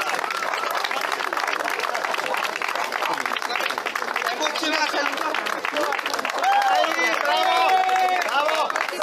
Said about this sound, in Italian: Diamo la parola a Marco Deola, un applauso!